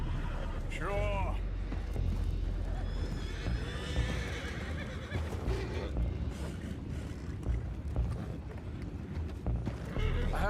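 In Red Dead Redemption 2, a horse gives one clear whinny near the start, with hooves clattering and thudding through a loud, busy scene on a boat with rushing water.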